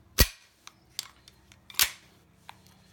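A Sig Sauer Mosquito pistol being dry-fired while unloaded: one sharp, loud trigger click, a second strong snap a moment later, and a few lighter mechanical ticks between them, close up with no speech.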